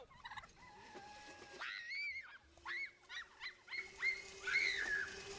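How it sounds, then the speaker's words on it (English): A turkey chasing a little girl lets out a run of short, rising gobbling calls in quick bursts, fairly close and clear against a quiet background. "This turkey's chasing this little girl around."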